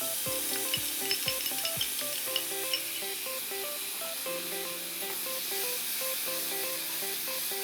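Seasoning poured onto pork fried rice and stir-fried in a pan: a steady hissing sizzle with a few quick spatula clanks at the start, then continued scraping and stirring, close and unbroken, no voices.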